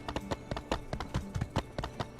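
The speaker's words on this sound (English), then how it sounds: "and I'm riding the horse." Horse hooves clip-clop in a steady, fast rhythm while riding in the video game My Time at Sandrock, a run of close, crisp hoofbeats lasting about two seconds.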